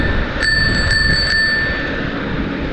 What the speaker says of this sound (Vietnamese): Có chuông nè